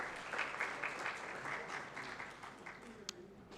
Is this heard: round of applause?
yes